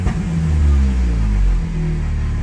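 A car engine is revved briefly and sharply, a deep rumble swelling and then falling back, heard close and loud.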